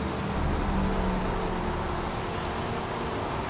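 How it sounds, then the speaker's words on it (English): Steady highway traffic in the video game Heavy Rain, a continuous low rumble and broadband wash of distant passing cars with no distinct events, moderately loud throughout. "Oh, there's highway."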